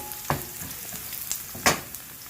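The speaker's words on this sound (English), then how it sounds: "And I'm going to add the garlic before the onion change color." Garlic and onion fry in a pan for a cassava leaves dish, making a soft sizzle broken by a few sharp spatula scrapes and pops.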